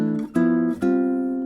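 A quartal chord voicing with C as the top note rings out, restruck a couple of times in quick succession and left to sustain, close and clear without speech.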